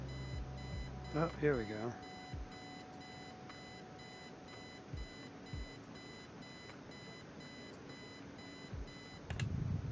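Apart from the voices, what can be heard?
alarm clock ringing in the video game Kathy Rain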